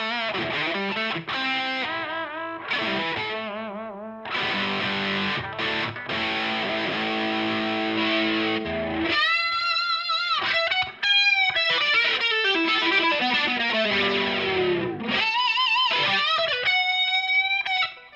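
A 1988 electric guitar with a Floyd Rose tremolo plays 80s-style distorted tones: dense driven chords and riffs, then bright sustained lead notes with vibrato and bends, loud and close with brief pauses.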